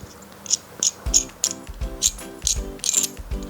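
Quick-release base plate being twisted onto a Zhiyun Crane M3 gimbal, producing a run of close, crisp ratcheting clicks in a steady rhythm, alone with no talk.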